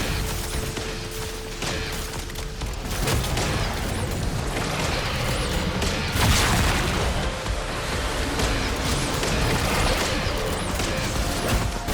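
Sustained rapid gunfire and booming impacts in a Black Ops 6 Zombies boss fight on Terminus at round 51, aimed at the glowing red polyps on the boss's side, forming a dense, loud, continuous barrage of shots and crashes.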